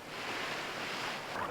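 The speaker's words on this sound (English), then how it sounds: "this is downright unpleasant in this cold wind, right in my face" Cold wind buffets the microphone on a boat in Mosquito Lagoon, Florida, a steady broadband rush with faint water movement underneath and no voices.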